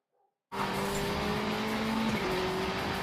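A rally car racing in a time attack in the video game Gravel, its engine roaring in loud, sustained high revs after a brief silence, with a slight pitch dip partway through.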